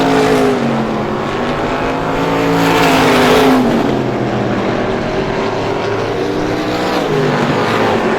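Super feature race cars circle the Star Speedway oval, the 19 car in the lead, their engines blending into a loud, continuous roar that swells and fades slightly as the pack passes, with no talking.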